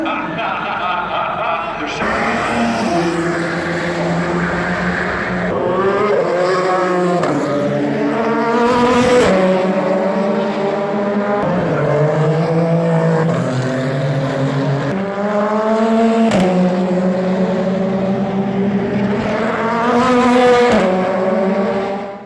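An Audi R8 V10 safety car runs laps of the Le Mans circuit, its engine note repeatedly climbing and dropping through gear changes, loud and continuous with a brief rasp of tyres at one point.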